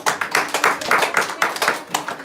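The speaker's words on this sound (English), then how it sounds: "Can you all clap and show?" An audience at a house program in Glasgow claps in a steady, fairly loud rhythm. Many hands beat together in even pulses, with no talking.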